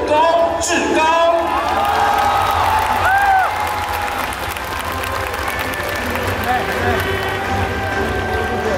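A stadium crowd at a baseball game claps warmly for the manager, a dense, sustained wash of applause with scattered cheers, heard under an amplified announcer's voice echoing across the ballpark.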